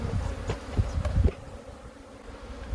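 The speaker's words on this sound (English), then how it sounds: "Lots of bees." Honeybees buzz steadily around an opened hive during an inspection of a colony, a dense close hum with a few louder swells and brief bumps in the first half before settling into a softer drone.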